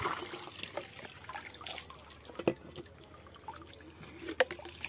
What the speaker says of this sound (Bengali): তো চলো গাইস দেখি জলটা লোড করে দিয়ে আসি।